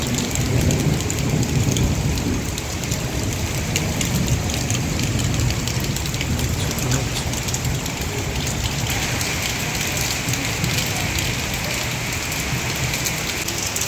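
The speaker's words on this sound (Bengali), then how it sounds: "কি পরিমাণ বৃষ্টি আজকে ভাই রাস্তায়?" Heavy rain pours onto a street in Dhaka, a dense, loud, unbroken roar of drops on hard surfaces lasting throughout, with a low rumble of traffic or engines beneath.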